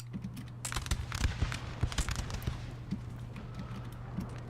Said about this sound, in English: It's probably going to be my last volley.